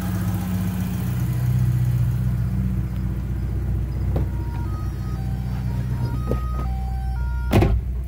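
A car engine idles high because of a faulty temperature sensor, a steady close rumble running throughout with faint intermittent whistling tones and a brief louder blip near the end.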